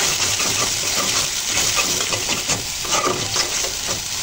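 Red chilli paste frying in a pan for a tomato-and-potato taki fish curry crackles and hisses loudly and continuously, with stirring scrapes running through the close, dense sizzle.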